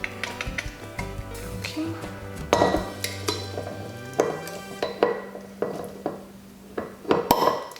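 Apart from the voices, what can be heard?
corkscrew pulling a cork from a wine bottle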